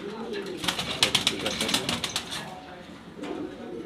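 Pigeons cooing in a small loft with two newly arrived breeding pairs, a run of soft throaty coos and some brief wing flutters up close, with a voice faintly present.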